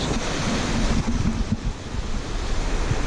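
Loud rushing water roars continuously up close, with wind buffeting the microphone and no talking.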